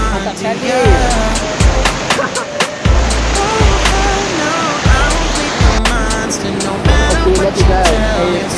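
Air Terjun Kain, a waterfall in Sekadau, roars as a constant broadband rush beneath loud pop music with a heavy, pulsing beat.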